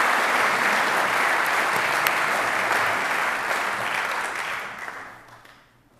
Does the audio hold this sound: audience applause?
yes